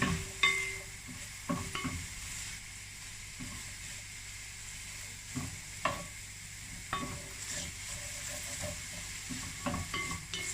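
Sliced carrots for chicken sopas are sautéed in a pan, a quiet steady sizzle broken by several sharp scrapes and clacks of a utensil stirring against the metal, with no voices.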